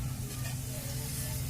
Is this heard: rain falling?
no